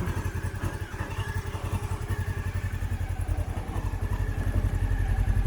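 Honda CB500S motorcycle engine idling steadily close by, a fast, even low-pitched throb with a slight rise in level toward the end and no talking.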